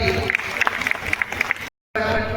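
Loud, dense applause from an audience at a talent show in Kawardha, a steady wash of clapping mixed with music that cuts out briefly near the end and then resumes.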